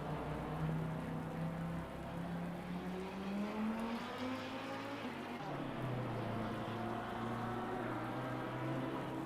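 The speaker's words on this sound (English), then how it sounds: "It is close to a thunderstorm. And it is continuously raining." Continuous heavy rain in Assetto Corsa Competizione during a GT3 endurance race at Barcelona, a steady wash of rain noise under the droning, rising and falling engine tone of a race car.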